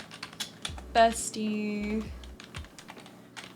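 Someone types on a computer keyboard in soft, quick, uneven clicks. Someone talks and exclaims over the typing.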